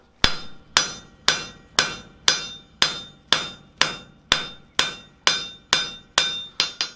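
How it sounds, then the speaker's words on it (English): A hammer strikes hot metal on an anvil while forging a round planishing tool flat, with about a dozen sharp, ringing blows at a steady rhythm, each decaying before the next, close and loud. "Go ahead and just forge it down flat if we can."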